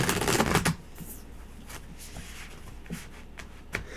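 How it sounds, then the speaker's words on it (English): A deck of tarot cards is shuffled close by. A flurry of riffling comes first, then scattered soft card slaps and taps over a quiet background. "shuffle"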